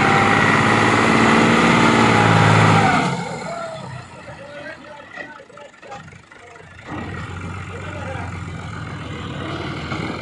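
A Ghazi 65hp tractor engine pulls a heavily loaded trolley in a Punjab village: a loud, droning engine note for about three seconds, then it drops to a quieter, uneven running sound with faint chatter nearby.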